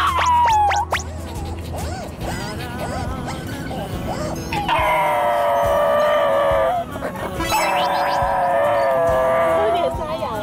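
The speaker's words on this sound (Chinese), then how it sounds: "唱 K 的狗" A dog howls in a drawn-out, singsong way, as if singing along, with two long wavering howls after some whimpering, yips and scratching; a person speaks briefly nearby.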